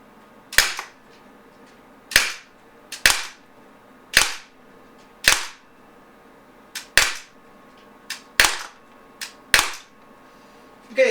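A Beretta Px4 Storm Recon 4.5mm pellet gun fires about ten sharp, snappy shots at irregular intervals of roughly one second, each a crisp close pop with a short tail.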